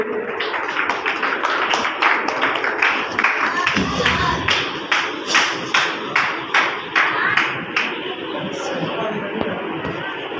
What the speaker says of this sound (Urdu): بہت ساری تالیاں ساجدہ سنبل کے لیے۔